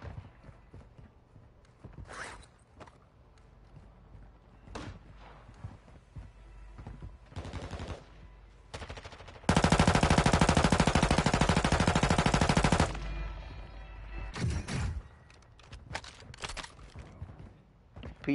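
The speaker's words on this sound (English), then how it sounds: "P90, very good SMG right here." A P90 submachine gun firing in an online shooter match, heard as a sustained loud automatic burst of about three seconds that follows scattered footsteps and shots.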